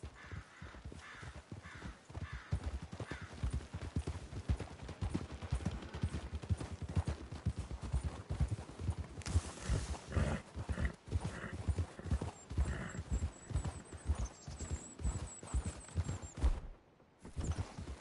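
Steady clip-clop of horse hooves trotting in a continuous rhythm in the video game Red Dead Redemption 2, with occasional crow caws in the background.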